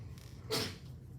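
A single short sneeze bursts out in a quiet classroom during a math lecture, brief and moderately distant against low room hum.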